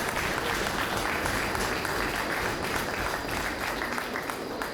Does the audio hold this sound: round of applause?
yes